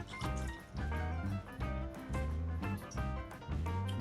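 Botanist gin is poured for a Ramos Gin Fizz cocktail. Close liquid glugging and trickling comes in short pulsing bursts that fill the whole stretch, without speech.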